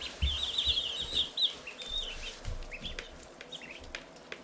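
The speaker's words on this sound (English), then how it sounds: "Look at all those baby turkeys." Baby turkeys (poults) on a homestead give high, thin chirping peeps in quick repeated runs at moderate level, with scattered low thumps and movement noise under the calls.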